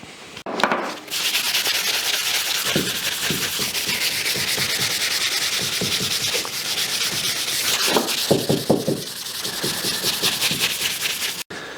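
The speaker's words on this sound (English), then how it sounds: "It's only a very, very light sanding." Steady, even scraping of light sanding on a metal hand plane iron runs continuously for several seconds in quick back-and-forth strokes, close and fairly loud.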